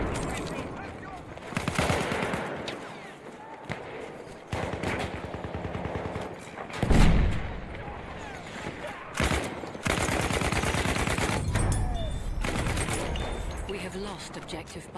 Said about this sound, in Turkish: Bir yerden sniper mı atıyor?